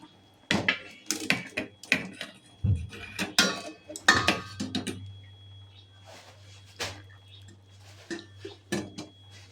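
Boiled spinach is lifted out of a pot with metal utensils, giving a burst of close clanks and scrapes against the pot, then a few lighter knocks over a low steady hum.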